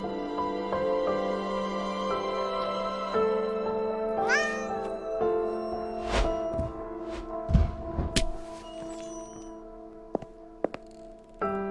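A cat meows inside the video game Burnhouse Lane, several clear calls rising over steady ambient music and game sounds, with a couple of sharp clicks near the end.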